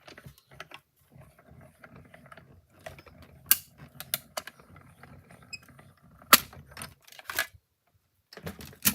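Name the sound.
die cutting machine cutting out a paper die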